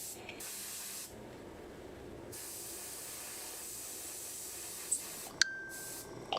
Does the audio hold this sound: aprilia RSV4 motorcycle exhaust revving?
no